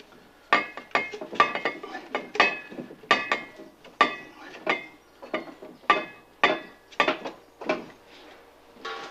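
Metal fittings of a gas pipe are handled and joined at a biogas digester, a close series of sharp clinks, taps and scrapes in an irregular rhythm, each ringing briefly.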